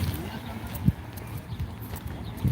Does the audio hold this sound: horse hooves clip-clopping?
yes